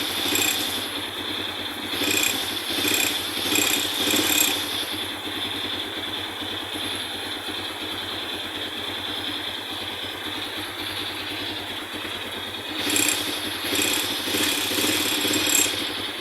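Motorcycle engine idling on a cold morning after its cylinder head spark plug threads were repaired, a steady close-up putter with a light mechanical rattle running evenly throughout, no talk.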